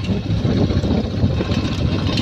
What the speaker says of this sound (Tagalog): Ito po yung tinatawag na habal-habal dito sa Cabayo.